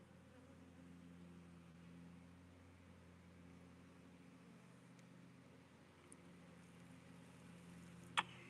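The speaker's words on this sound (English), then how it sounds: "I just heard massive amounts of bees" Honeybee swarm near an apiary, a steady low droning hum of many bees held evenly throughout, with a brief sharp click near the end.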